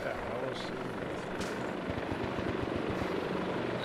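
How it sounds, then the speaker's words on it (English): In the Arma 2 video game, a helicopter's rotor thumps steadily nearby, a continuous rhythmic chop with voices speaking over it. "Helicopter is to our east."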